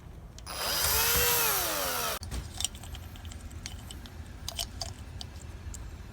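A power drill drives doorknob screws into a Kwikset or Schlage door lock, a loud whirring burst lasting about two seconds, followed by scattered clicks and small metallic knocks close by.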